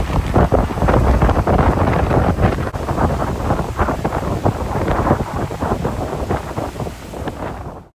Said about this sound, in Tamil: பீச்சுக்கு வந்ததுக்கு அப்புறம் தான் பார்த்தீங்கன்னா ரொம்ப காற்று வந்து ஃபீல் பண்ண முடிஞ்சிச்சு